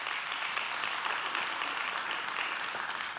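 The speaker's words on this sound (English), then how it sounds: "Give the Lord a hand clap." Church congregation clapping together, a steady dense wash of applause held evenly throughout, fairly loud and filling the room.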